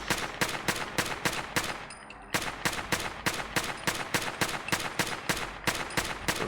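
Assault rifle fire in Fallout, a rapid run of loud close shots at a steady, slightly uneven rate, broken by a short pause before firing resumes.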